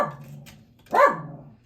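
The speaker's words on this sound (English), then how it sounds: "she has a dog barking outside" A dog barks outside, a single loud bark standing out from a quiet room with faint low hum and a brief earlier yip.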